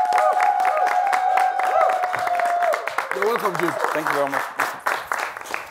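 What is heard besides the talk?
audience applause for the guest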